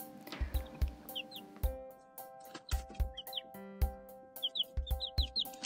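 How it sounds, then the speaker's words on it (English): A small backyard flock of three chickens, clucking and chirping in short, irregular calls mixed with soft knocks and thumps nearby, heard alone without speech. "Since our flock is down to just 3 chickens, Kim and I decided to add to that this year."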